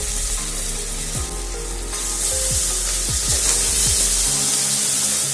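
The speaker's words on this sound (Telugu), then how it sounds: "అల్లం వెల్లుల్లి పేస్ట్ది పచ్చివాసన వెళ్ళేదాకా ఫ్రై చేసుకున్నాక" Onions with turmeric and ginger garlic paste fry in a pan, a loud continuous sizzle with scraping stirs throughout, close and with no speech.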